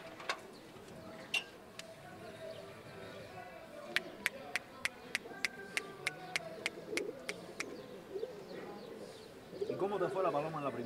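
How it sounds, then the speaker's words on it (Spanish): Racing pigeon in a loft softly cooing, faint and distant, under a rapid series of sharp clicks and someone talking. "Y es esta palomita. Es esta la palomita."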